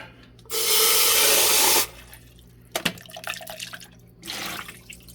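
Water running to rinse clay out of a water pressure fitting at a cabin, a loud, close gush for over a second, then clattering handling sounds and a second shorter burst of running water, with no talk.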